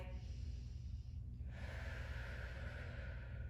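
A long breathy exhale during a low-back-friendly PiYo abdominal workout, a close airy rush that swells partway through and holds steady over a low background hum.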